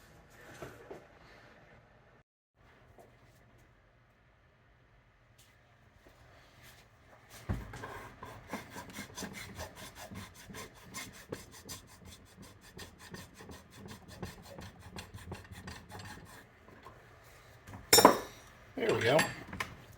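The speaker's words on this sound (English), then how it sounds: "combination of chisels and rasps and files" Chisels, rasps and files square up a bored hole in a wooden hammer handle. A quiet stretch comes first, then a long run of rapid rhythmic rasping strokes, ending in a few louder scraping bursts.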